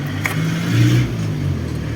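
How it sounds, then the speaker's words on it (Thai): A Yamaha Mio 125 scooter engine with a Diasil cylinder, worn loose, idles close by with a steady, low, droning hum and a faint uneven undertone, heard alone. "อาการพวกเครื่องยนต์หลวมของพวก ตระกูล ยามาฮ่าที่เป็นเสื้อสูบไดอาซิล นะครับ เป็นลักษณะแบบนี้นะครับ"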